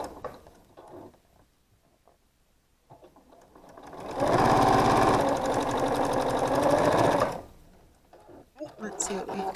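Sewing machine stitching a quilt block seam made from half-square triangles, a loud rapid mechanical whir for about three seconds, with a person talking quietly before and after.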